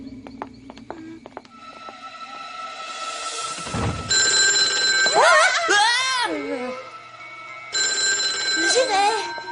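A cartoon telephone rings in bursts of repeated electronic trills, loud and close, with animated-series voices and sound effects mixed around the ringing.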